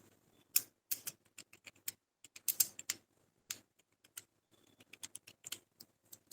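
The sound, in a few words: typing on computer keyboard entering data in Tally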